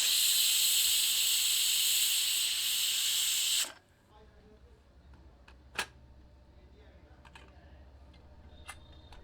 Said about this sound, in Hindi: प्रेशर कुकर की भाप स्वतः मुक्त होने दें, तभी कुकर खोलते हैं।